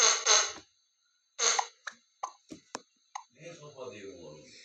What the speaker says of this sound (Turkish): Ay çok kötü osurdum.